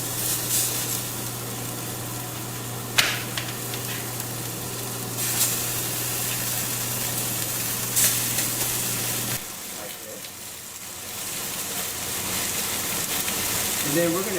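Lamb chops searing in hot canola oil in a pan give a loud, continuous hissing sizzle, close up, with a few sharper spits and pops and a low hum that cuts out partway through.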